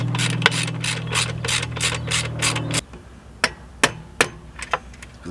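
A ratchet tightens the rear shock bolt on a Honda CRF50 dirt bike, a fast run of close, loud clicking strokes followed by several separate sharp metallic clicks, with no voices.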